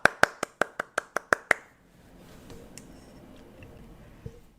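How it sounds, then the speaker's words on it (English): About eight sharp, close hand claps land in a quick, even rhythm before stopping abruptly, leaving near-silence with a faint tap or two afterward. "round of applause."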